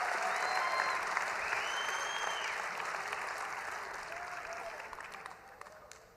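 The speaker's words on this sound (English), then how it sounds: "Give your friends and parents an applause" A crowd applauds at a college spring commencement, dense steady clapping that carries on for several seconds and slowly tapers off, with a few faint voices or whistles mixed in.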